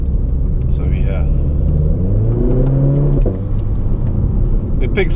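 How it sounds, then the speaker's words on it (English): A Renault Clio RS 200 EDC hatchback engine with ITG induction and centre resonator delete rumbles loudly up close and climbs in pitch as it accelerates through a couple of gear changes, with a voice talking over it. "it picks up nice. It's a nice engine."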